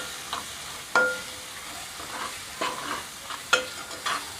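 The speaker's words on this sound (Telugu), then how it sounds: "ఇలా ఒకసారి బాగా మిక్స్ చేసుకుని లో ఫ్లేమ్లో జస్ట్ 2 మినిట్స్ మాత్రమే ఫ్రై చేసుకోండి." Spices stirred and fried on a low flame for mirchi ka salan, soft faint sizzling broken by several sharp spoon scrapes and knocks against the pan at irregular intervals.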